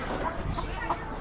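Older Black Copper Marans hens cluck softly at an animal auction, with a few short murmured notes spaced through a brief, busy background of crowd noise.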